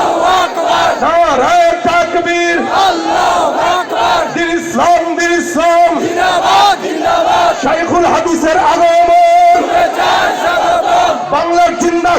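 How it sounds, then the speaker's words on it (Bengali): A large crowd at an Islamic gathering roars a takbir chant in unison, loud, dense voices rising and falling in repeated rhythmic calls throughout. "সবাই মিলে একই কালে দাও না নারায় তাকবীর"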